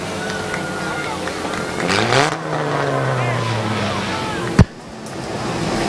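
Race cars roar past during a heat race at Midvale Speedway, engines swelling and fading as they pass close by with a crowd murmuring underneath, then a sharp loud bang near the end.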